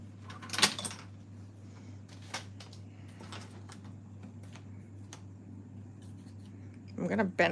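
Stamped white card stock is trimmed down with a paper cutting tool, giving a few short sharp slicing and scraping strokes over a low steady hum, with a louder clatter near the end and brief speech.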